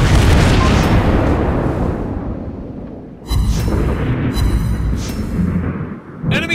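Heavy booming blasts of torpedo hits in World of Warships Blitz, around a Soviet battleship Izmail: a long rumbling explosion that fades, then a second loud blast with crackling debris and another short burst at the end.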